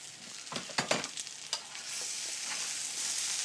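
Lardons and lightly crushed cooked potatoes are stirred in a frying pan, several sharp scraping clatters in the first half giving way to a steady, close sizzle.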